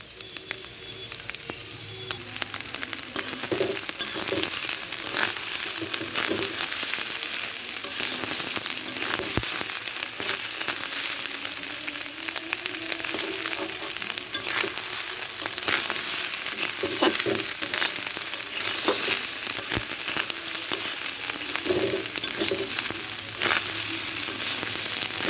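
Fish roe frying with bitter gourd in a pan, a steady close sizzle and crackle of oil filling the whole stretch, with occasional faint stirring scrapes and no talk.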